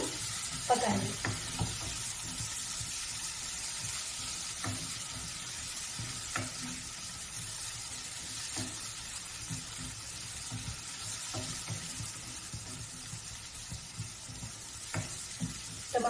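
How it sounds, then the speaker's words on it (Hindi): Onion, capsicum and freshly added tomatoes sizzle steadily in a pan for a broccoli and pea sabzi, with occasional scrapes and clinks of a spoon stirring. "अब इसमें टमाटर ऐड करेंगे। और इनको भी अच्छे से हम पकाएंगे।"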